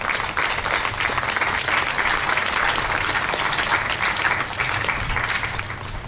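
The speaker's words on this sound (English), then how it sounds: "So one more round of applause" Sustained, dense applause from a school band concert audience at a middle school, a steady wash of many hands clapping at even loudness throughout, tapering slightly at the end.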